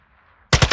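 A Warzone 2 machine gun cuts in after a near-silent pause, firing three quick loud rounds in tight rhythm at close range, with no voices.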